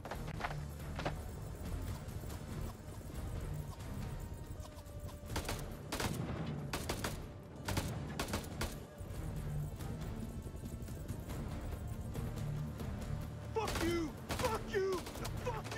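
Gunfire in the horror game House of Ashes, repeated sharp shots and bursts through dense, noisy combat ambience, with voices talking over parts of it.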